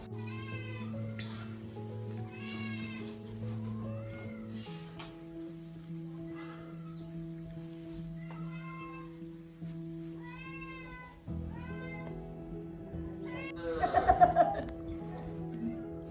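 A cat meows repeatedly in drawn-out cries over a steady low hum, ending with a louder, sharper burst of yowling.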